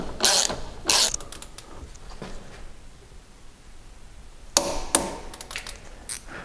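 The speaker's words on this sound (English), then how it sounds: "I'm going to go down and tighten up the bottom bolt for the spring" A wrench ratchets in short bursts while tightening the bottom spring bolt on a Mercedes ML W163 suspension, with bright metallic clicks and clanks separated by quiet pauses, close and fairly loud.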